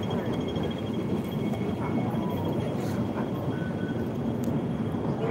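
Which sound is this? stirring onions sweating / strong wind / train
train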